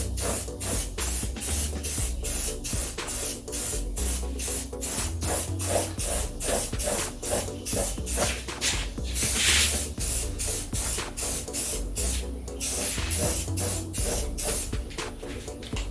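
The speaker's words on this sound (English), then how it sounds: "when you're spraying, walk around and spray all of the angles" Spray paint hissing from an aerosol can while coating a doorbell cover, a close, continuous hiss broken into many short rhythmic bursts as the nozzle is pressed and released.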